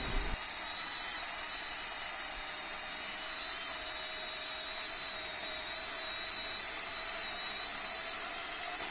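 An OSUKA OCCS430 cordless chainsaw cuts through a large log at a steady, unrevved speed, giving a loud continuous high whine that holds evenly throughout with no voices.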